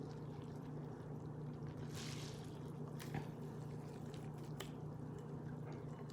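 Grated zucchini is squeezed in a double layer of cheesecloth, with faint, soft dripping and squishing of liquid over a low steady background hum.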